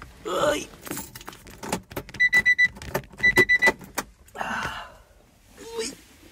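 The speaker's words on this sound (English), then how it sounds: "Let me take the key out the car without breaking my back." Car key pulled from the ignition of an Acura NSX, with keys jangling in short metallic bursts alongside chime tones, clicks and handling noises close by, surrounded by faint movement sounds.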